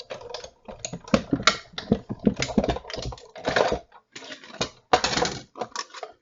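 Paper cardstock star pieces are trimmed to equal size with a cutter, giving a series of close, crisp cutting and scraping strokes in irregular bursts separated by brief silences.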